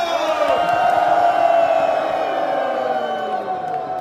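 Conference crowd at a KaratBars event in Amsterdam, cheering, whooping and bellowing loudly in a sustained roar that slowly fades over a few seconds.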